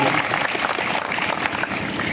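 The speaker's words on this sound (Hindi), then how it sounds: "तो मेरे साथ आप लोग भी ताली बजाइए" Sustained applause from an audience at a Bihar Police honour ceremony held at an academy, a steady, dense clatter of many hands clapping throughout with no break.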